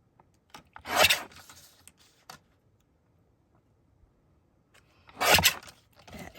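Scissors trim a paper quilt card in two short crisp bursts of cutting and rasping, close and fairly quiet, with near silence in between.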